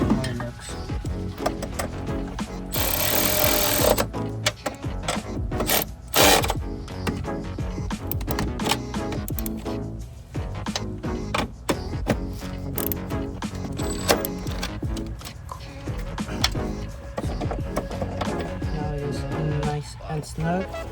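A ratchet tightens a fitting on a Toyota FRS chassis being prepped for an LS3 swap, giving bursts of close mechanical clicking and clatter with a steady shop background.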